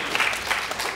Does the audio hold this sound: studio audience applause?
yes